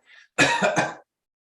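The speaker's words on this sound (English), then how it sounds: "Everyone please cough." A short burst of coughing from a group of people, several overlapping coughs packed into under a second after a faint brief sound.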